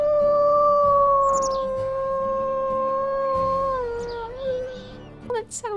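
A wolf in the WolfQuest video game lets out a long, haunting, tonal howl that holds steady for several seconds, then bends downward and trails off in short yelps and whimpers near the end, close and clear.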